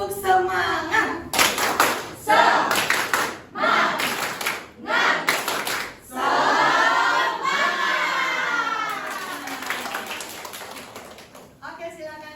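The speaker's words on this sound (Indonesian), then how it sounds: "Tepuk semangat, Ibu hitung 1, 2, 3. Tepuk semangat." A standing group of seminar participants does a rhythmic spirit-clap ice-breaker, several bursts of loud clapping separated by brief pauses, then a longer sustained stretch of clapping, with a voice counting and talking in between.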